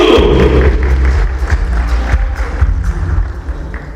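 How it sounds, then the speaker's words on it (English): An audience at a football club sponsorship unveiling event claps loudly at first, then the applause thins into scattered, uneven claps that trail off. "Clap again louder"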